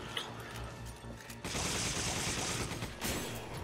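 Gunshots in the video game Resident Evil 5: a quiet, dense clatter of rapid shots, steady and fairly faint, with a brief pause before a continuous burst.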